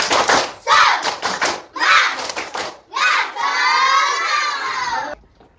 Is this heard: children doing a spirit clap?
yes